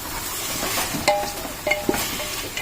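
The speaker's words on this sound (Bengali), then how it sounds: "খাসির গোস্ত একটু আগে তেলের মধ্যে করে নেবে" Mutton pieces fry in hot oil, giving a steady close sizzle and crackle broken by a few light clinks of a utensil against the pan.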